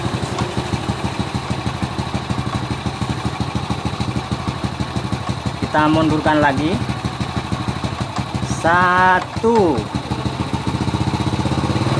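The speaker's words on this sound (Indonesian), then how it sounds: "ini mesin sudah mulai meraung" A motorcycle engine with a standard slide carburetor idles steadily during air screw adjustment and revs up loudly twice in brief bursts, while someone talks close by over the running engine.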